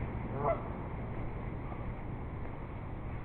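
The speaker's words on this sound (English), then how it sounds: "I'm sorry, Mr. Goose." A goose honks once near the start over a steady outdoor rumble, with fainter honk-like calls scattered through the rest of the stretch.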